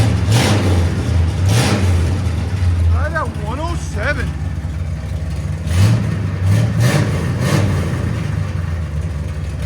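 Loud, close revving from a 1970 Chevrolet Chevelle SS 454 big block V8 with headers and straight pipes, its deep idle rising into several throttle blips, with someone speaking briefly partway through.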